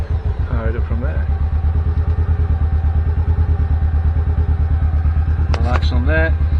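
The engine of a John Deere Gator 590i utility vehicle runs at a steady idle with an even, pulsing chug and light clatter, close by, while a person talks briefly over it.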